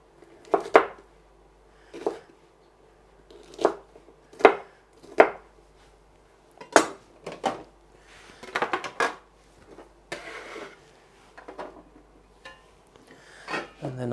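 A knife chops vegetables into small cubes on a board in sharp, separate knocks, irregularly spaced with a few quick clusters, close and clear.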